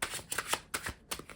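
Tarot cards being shuffled by hand, a quick series of crisp riffling flutters in several short bursts, close and moderately quiet.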